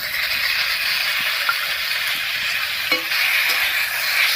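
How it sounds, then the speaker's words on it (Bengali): Garlic and green chili paste goes into taro stolons frying in a pan, producing a steady, close sizzle with a brief scrape of stirring partway through. "কচুর লতিটা বেশ ভাজা ভাজা মতো হয়ে গেছে এবারে বাটা মশলাটা দেবো দিয়ে দিচ্ছি রসুন আর কাঁচা লঙ্কা বাটা"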